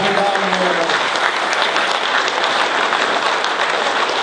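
An audience applauds for Dato' Razali Ibrahim at a Malaysian political gathering, with dense, steady clapping that holds loud and unbroken throughout.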